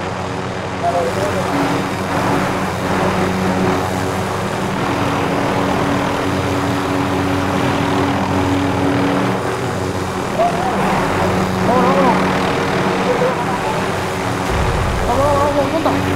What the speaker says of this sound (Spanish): Estoy en el helicóptero, estoy en el helicóptero aquí.